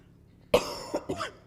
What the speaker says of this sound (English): Whenever this heating system comes on, I cough.